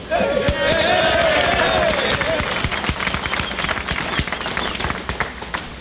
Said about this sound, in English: Let's hear applause for quartet number 1.